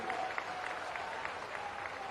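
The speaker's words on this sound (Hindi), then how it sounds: "तालियां बजा के बोलिए" Crowd applause at a political rally speech, a steady wash of clapping from a large audience lasting a couple of seconds, with faint voices mixed in.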